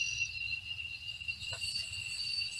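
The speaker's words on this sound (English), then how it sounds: "We've got the sounds of the Georgia forests in the background." Georgia forest ambience: a steady, high insect drone of crickets or cicadas hums continuously in the background, with a faint low rumble beneath and no voices.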